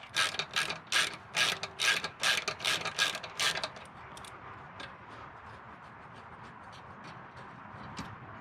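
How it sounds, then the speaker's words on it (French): A ratchet wrench clicks rapidly in a series of quick bursts while removing anti-roll bar screws from a car, then the clicking slows and fades into sparse, quieter ticks. "On va retirer les vis de barre stable aussi."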